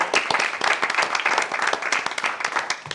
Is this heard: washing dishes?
no